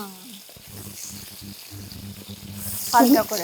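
Shrimp drop into hot oil in a home kitchen and the oil bursts into a loud, hissing sizzle near the end. Before that there is quieter cooking noise while someone talks.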